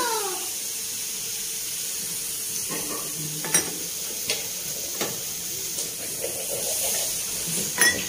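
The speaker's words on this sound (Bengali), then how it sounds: "এখানে দেখো আমের চাটনিটা হচ্ছে" Mango chutney cooking in a pan at home, a steady soft bubbling sizzle with occasional clinks and scrapes of a spoon stirring against the pot, close and moderately quiet.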